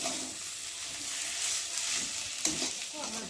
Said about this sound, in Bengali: ভালো করে ধনে পাতা দিয়ে একটু ভালো করে ভেজে নিয়েছি